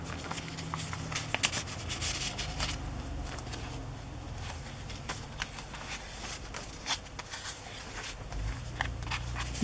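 A vintage paper envelope from the 1910s is handled for a Christmas journal: close, dry rustles and crinkles with scattered sharper paper snaps, rising and falling with the hand movements.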